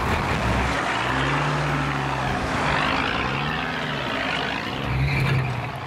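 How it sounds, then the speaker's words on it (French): A heavy truck engine drones loudly and strains at full power, its pitch rising and falling in long labored swells, with no talking. "Le chauffeur doit mettre toute la puissance de son moteur dans la bataille."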